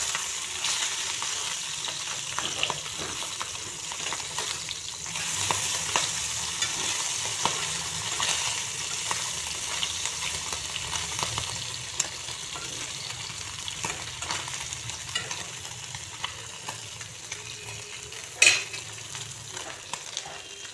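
Small puti fish frying in a pan of oil give off a steady, moderate sizzle with light crackles and occasional stirring, plus one sharp knock near the end; no one speaks.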